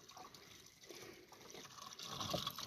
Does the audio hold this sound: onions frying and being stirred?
no